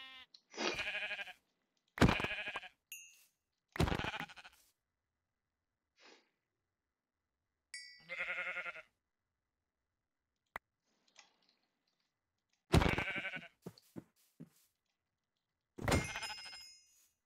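Sheep in a video game bleat in a series of short, separate calls, some close and loud and others fainter, with quiet gaps between them and a few small ticks.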